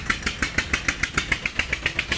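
A tractor engine chugs steadily nearby, its rapid, even pulses repeating without pause.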